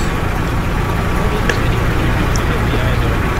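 Constant rumble of a V3S truck engine left running in a video game, steady and fairly loud for several seconds, with a couple of brief higher clicks and what may be people talking faintly underneath.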